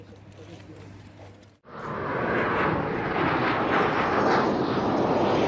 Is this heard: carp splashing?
no